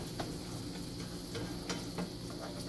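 Okonomiyaki batter sizzling in a pan, a steady low hiss of frying with faint occasional ticks and pops, close by.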